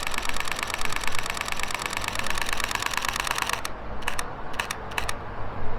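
A Nikon Z50 mirrorless camera fires in high-speed continuous mode while shooting RAW. Its shutter ticks off a rapid, evenly spaced burst of crisp clicks for several seconds, followed by a few short separate bursts, all close and clear.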